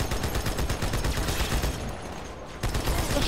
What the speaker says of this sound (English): That's shooting me for real?